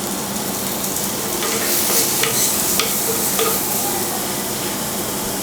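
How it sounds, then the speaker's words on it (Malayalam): Sliced onions with a pinch of salt are sautéed in a pan for a Kerala okra curry, a loud, continuous sizzle with frequent stirring scrapes close by. "ലേശം ഉപ്പ് ചേർക്കാം സവാള ഒന്ന് വഴറ്റാൻ വേണ്ടി."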